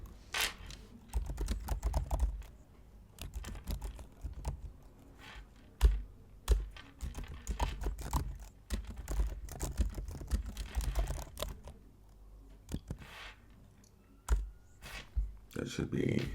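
Typing code on a computer keyboard, with rapid uneven bursts of close key clicks and taps broken by short pauses, some louder keystrokes standing out, and faint talk mixed in.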